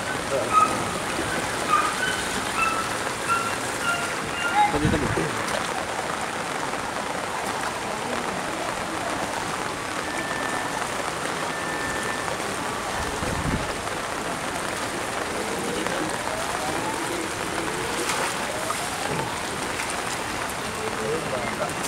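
Heavy rain falling steadily outdoors during a flood in a forested area, a dense continuous hiss on surfaces that lasts throughout, with occasional voices faintly underneath.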